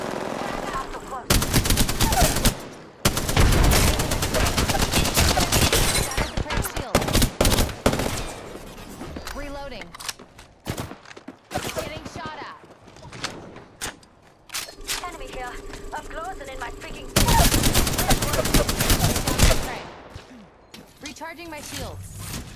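Gunfire in the video game Apex Legends comes in long automatic bursts and scattered single shots, loud and dense, with gaps of clanking game effects and game voice lines between volleys.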